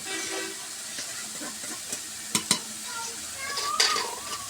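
Pumpkin fries in a pan with a soft steady sizzle, punctuated by a few sharp clinks and scrapes of a spoon stirring against the pan, close and fairly quiet.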